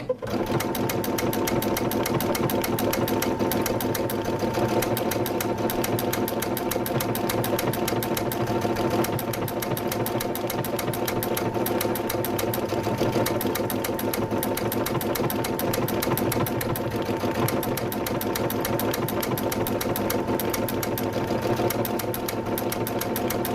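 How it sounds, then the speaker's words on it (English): A sewing machine stitching fabric runs steadily at a fast even pace for the whole stretch, a close, continuous mechanical whir with rapid needle ticks and no talk. "you can use the machine to find out exactly where you want to stitch"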